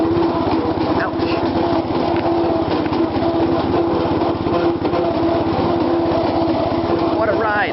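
A weak lawn tractor engine labors through tall grass, a loud, constant buzzing drone right up close with a steady rumble, while someone talks over it.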